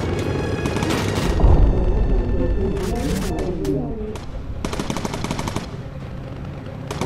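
Bursts of machine gun fire ring out from a bomber's turrets in the World War II flight game Bomber Crew, loud rapid volleys in several separate strings over engine drone, with a voice speaking German between them.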